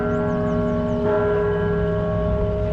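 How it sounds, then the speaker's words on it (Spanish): Largest church bell in the Americas, in Mexico City, ringing as a loud sustained tolling with long humming overtones that hang through the whole stretch, with a faint chirp or whistle early on. "tenemos el privilegio de escuchar la campana más grande de América"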